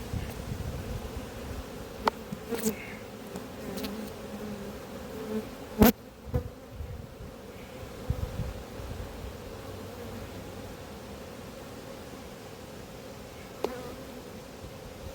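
Honeybee colony humming steadily during a hive inspection in an apiary, a continuous dense buzz close by with occasional knocks and rustles of frames being moved.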